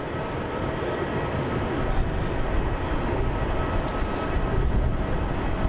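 Qantas flight QF433 from Sydney arrives at Melbourne Airport, a steady broadband jet engine roar holding level throughout, loud and continuous, with no distinct voices over it.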